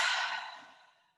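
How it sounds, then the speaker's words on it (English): A single long, deep breath out through the mouth during a yoga flow for ankle and hip stability, a soft airy sigh that starts strong and fades away over about a second, close and alone. "taking 2 or 3 more big deep breaths in"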